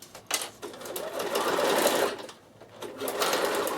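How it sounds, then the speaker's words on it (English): A Bernina sewing machine stitches binding down on a toiletry bag in a close, steady burst of rapid needle whirring that briefly slows and restarts near the end. "So I'll just sew this down for you and then I can show you."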